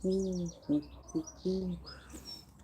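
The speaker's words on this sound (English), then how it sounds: "all you could hear was the doves" Doves coo outside in a garden camp, a few soft, rhythmic phrases of low repeated coos, fairly faint, with light chirps from other small birds overhead.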